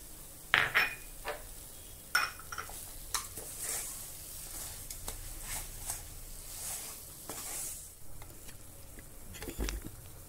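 Sugar and jaggery being mashed together in a pan with a masher for sondesh: scattered metallic clinks and scraping strokes, moderately close, with a soft sizzle between them.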